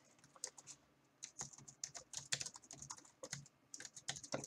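Typing on a computer keyboard, quick irregular bursts of clicky keystrokes close by and fairly quiet, with short pauses between runs and no talking.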